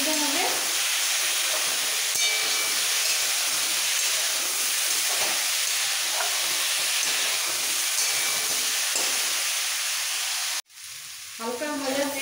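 Pumpkin greens being stir-fried in a pan give a loud, continuous close sizzle and hiss with stirring, ending in a sudden cut followed by a softer return.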